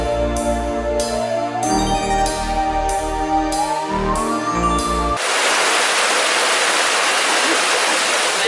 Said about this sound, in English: It's freaking pouring rain right now